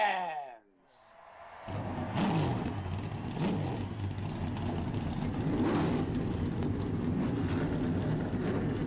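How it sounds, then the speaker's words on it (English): Race car engines in an eNASCAR iRacing event at Road America fire up together after a brief quiet, settling into a steady loud roar and revving that fills the rest of the stretch. "Drivers, start your engines!"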